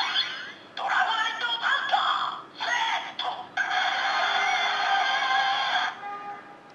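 Electronic sound effects from a Kamen Rider Ex-Aid Gashat toy themed on a Monster Hunter-style game: several loud bursts of tones, the first two brief and clipped, the last a longer sustained stretch, with no talking.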